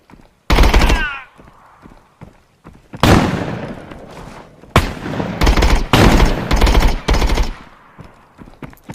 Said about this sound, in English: Because this guy's shooting at me.